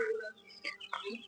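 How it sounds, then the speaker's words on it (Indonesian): Native village chickens and broiler chickens on a poultry farm cluck in short, close bursts that overlap each other, with no talk over them. "kami beternak ayam, baik ayam kampung maupun ayam broiler"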